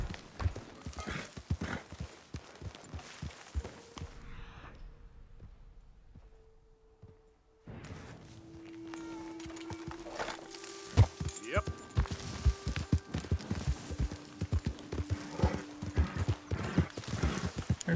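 Wild horses in Red Dead Redemption 2: hooves clip-clop in irregular runs, a whinny rings out, a quiet lull comes midway, then hoofbeats resume with a low drone.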